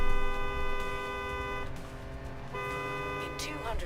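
A car horn in Forza Horizon 3, on a Ferrari Dino, blares in two long, loud honks separated by a short gap, with the game's engine noise beneath.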